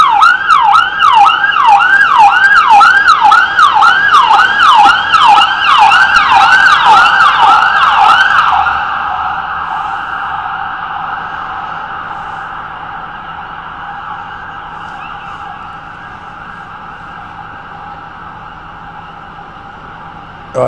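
Ambulance siren in Tel Aviv, loud and near, wailing in fast repeating sweeps before settling into a steadier tone that fades as the vehicle moves away.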